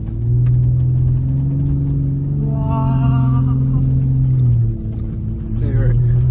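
A 2023 Ford Raptor driving off-road on dirt in two-wheel drive, fishtailing: a loud, steady low engine drone with a rising rev mid-clip, close and continuous, with a brief dip near the end.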